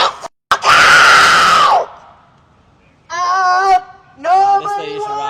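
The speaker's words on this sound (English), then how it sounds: "screaming in the megaphone" A woman screams harshly through a megaphone at a protest, one long distorted shriek followed by two shorter amplified yelling bursts separated by brief quiet gaps.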